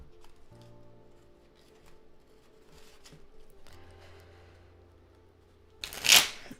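Quiet rustling and soft handling noises, then a quick, loud riffle of cards being shuffled near the end.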